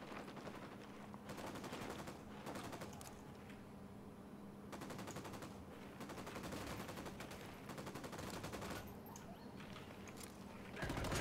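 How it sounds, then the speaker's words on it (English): Gunfire in the video game Ghost Recon Wildlands, with sustained bursts of automatic rifle fire in repeated volleys across the whole stretch, loud and close, with brief gaps between the bursts. "Opening fire."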